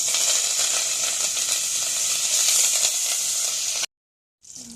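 Curry leaves and fenugreek fry in hot oil for a chilli pickle, giving a loud, continuous crackling sizzle up close that cuts off abruptly, then briefly resumes.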